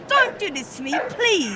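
A police dog barks and yelps close by during an arrest in Luton, its sharp cries mixed with a woman's loud, distressed talking.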